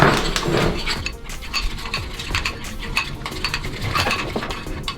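Waffle pizza batter being mixed vigorously in a bowl, rapid rhythmic scraping and clinking of a utensil against the bowl close by.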